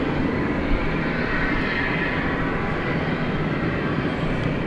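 A Boeing 737-800 in TWA heritage livery at Dallas Fort Worth International Airport at night gives off a steady, full engine roar that stays constant and fairly close.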